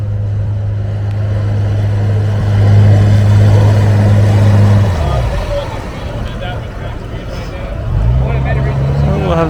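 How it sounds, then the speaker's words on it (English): An amphibious car drives through water, its steady low engine drone fading and then returning, with a babble of voices from onlookers throughout. "There's something you don't see every day. A car in the water."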